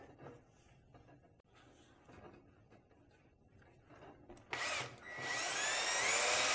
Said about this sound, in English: then we'll try it with the drill again